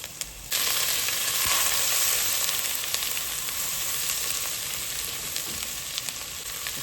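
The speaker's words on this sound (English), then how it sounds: "and then we'll add the onions in. So we'll just fry that for a couple of minutes" Onions fry in a pan on medium heat for a chicken and mushroom curry, a strong sizzle that starts abruptly and continues steadily with faint stirring ticks.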